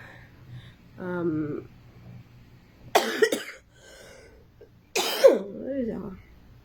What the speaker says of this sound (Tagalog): Inuubo po talaga ako as in.